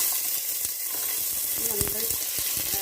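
Mixed vegetables, including cut green plantain, hitting hot oil in a pan with a steady close sizzle and occasional stirring clatter, no voices.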